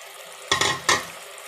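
Spoon stirring yogurt with salt, red chili powder, coriander, cashew powder, roasted cumin and turmeric in a pan for kofta curry masala, two short scraping sizzles close by over a quiet background.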